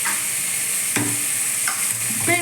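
Onions for a chicken curry frying and being stirred in a pan, a steady close sizzle with a few sharper clinks and scrapes of the spoon.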